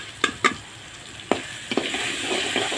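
Tomatoes sautéing in a pan as a pinch of asafoetida powder goes in, a soft steady sizzle broken by several sharp stirring scrapes and clicks of a spoon against the pan, close and with no talk.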